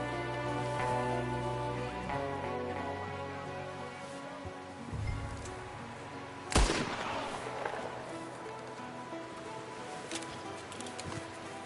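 A single sharp gunshot rings out in Red Dead Redemption 2, loud and close, cutting through a continuous bed of game music and ambient tones that carries on before and after it.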